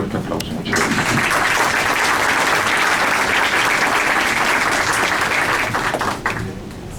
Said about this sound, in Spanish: a la doctora Diana Cristal González Obregón, para quien pido un fuerte aplauso.